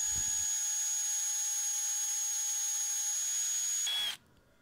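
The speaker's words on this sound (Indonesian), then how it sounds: "Bor as tengah dari potongan tongkat pramuka. Gunakan mata bor 3 mm." A high-pitched electric drill with a 3 mm bit whines steadily as it bores through a piece of wooden scout staff, close and loud, then stops abruptly near the end.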